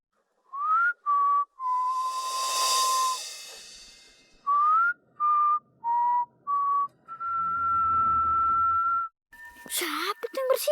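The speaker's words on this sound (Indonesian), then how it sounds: "Siapa tuh yang bersiul?" A person whistles a slow tune of short and held notes, close and clear, with a soft breathy noise in the middle and a brief sound at the end.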